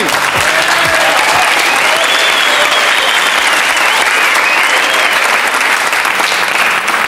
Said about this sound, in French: Bravo Nana, on l'applaudit.